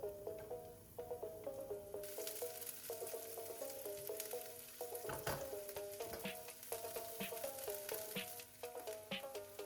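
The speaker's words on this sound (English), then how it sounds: "drizzle a bit of olive oil in your pan and add your chopped onions" Chopped onions sizzling in olive oil in a pan, a steady crackling fry with faint clinks, rising louder after a couple of seconds.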